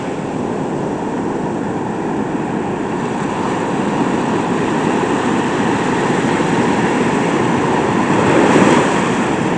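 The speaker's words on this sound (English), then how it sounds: "Some pretty big waves out there." Big ocean waves make a steady, loud, broad roar of surf that continues without a break, swelling slightly near the end, with no voices.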